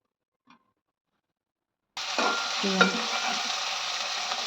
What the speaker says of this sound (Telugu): ఇది ఉల్లిగడ్డలు ఎర్రగా వేయించుకొని